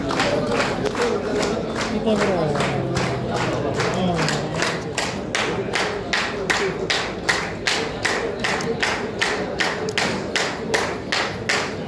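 Audience at an award ceremony clapping in a steady rhythmic beat, loud and continuous, with crowd murmur and a voice underneath early on.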